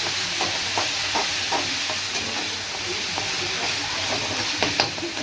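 Onion, tomato, green chilli and curry leaves sautéing in a pan give a steady sizzle with scattered stirring scrapes and light clicks, close and moderately loud, with no talking.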